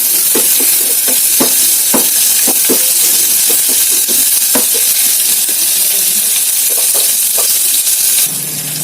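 Onions frying on a high flame in a pan, giving a loud continuous sizzle and hiss with intermittent stirring scrapes and taps, close up and steady until it drops slightly at the end.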